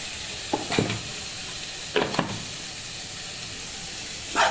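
Coriander powder sizzling and stirred in a pan while cooking sambar, a quiet steady hiss broken by a few short scraping stir sounds, close and alone with no talk.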